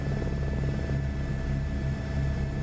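Helicopter running in a flight simulator game, a steady rotor thump pulsing evenly over a constant engine whine and hum, close and unbroken.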